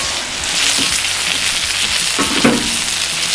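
A ribeye steak sears in a cast iron skillet with rosemary and garlic, producing a loud, dense, close-up sizzle that holds steady with a few sharper spits.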